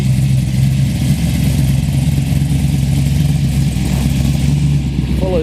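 An old Toyota Corolla rolls past at a coffee-and-cars show, its steady mid-pitched engine hum holding close and even under a busy outdoor background, with no rise in revs.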